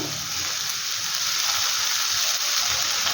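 Vegetables for a veg roll frying in a pan, a loud, steady close sizzle that hisses continuously without a break.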